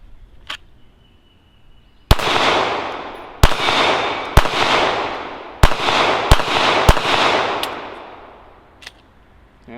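Shots from a Glock 42 pistol at a shooting range ring out in a sharp, loud series of about seven cracks with uneven spacing, each leaving a lingering reverberant tail.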